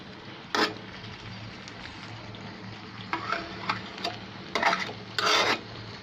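Ghee being stirred into Chinese-style mixed vegetables in a pan, a soft scraping and rasping with a faint sizzle, in several short bursts of spoon strokes over a steady low background.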